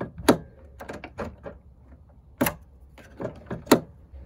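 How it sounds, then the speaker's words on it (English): Someone tries a door that only opens halfway and will not open, giving a string of sharp metallic clacks and rattles of the handle and latch, some close and loud, others softer, with pauses between. "So this door can't be opened from the outside."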